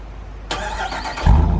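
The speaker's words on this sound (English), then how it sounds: "There goes that remote start, man. It sounds good too." A 2021 Jeep Wrangler Rubicon 392 with a V8 HEMI engine fires up by remote start, a sudden burst of noise followed by a deep, loud rumble as the engine catches, heard up close with no talking.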